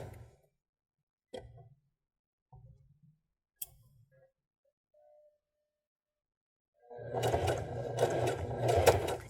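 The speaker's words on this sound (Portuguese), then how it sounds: "E vou costurando." Sewing machine stitching a garment alteration, several short separate bursts of the motor followed by a longer steady run of rapid rattling stitches near the end, fairly quiet and close with no talking.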